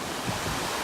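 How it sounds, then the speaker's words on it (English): Wind gusts across the shore on Longboat Key, a steady close roar of wind buffeting the microphone mixed with surf wash, with no talk. "it seems like the wind would be blowing toward me right now"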